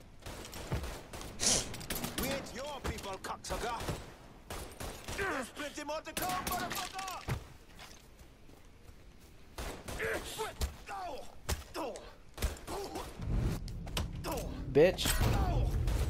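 Gunfire from the video game Mafia 3 comes in loud, close bursts and rapid volleys, broken by mechanical clicks and creaks of reloading and short pauses, with a player's voice cutting in briefly.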